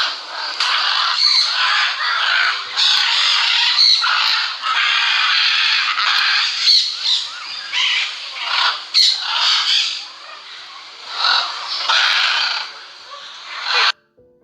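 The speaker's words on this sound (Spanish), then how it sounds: "el grito de los loros y los guacamayos" Harsh, continuous screeching of many parrots and macaws, loud and close, a dense chorus of squawks with no voices.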